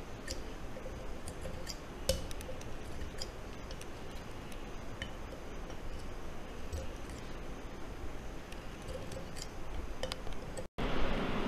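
Scissors trimming extra material while making a candle holder, a series of small, crisp snips and ticks spread unevenly over a quiet background noise.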